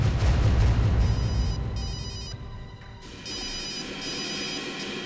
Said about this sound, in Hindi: हॉस्पिटल से फोन?